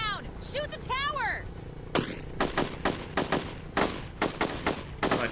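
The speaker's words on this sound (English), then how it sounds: "Bullets won't take it down! Shoot the tower!" Gunfire in a video game shoots at a tower: a series of sharp, loud shots, some in quick pairs, after an earlier stretch of whooshing game effects.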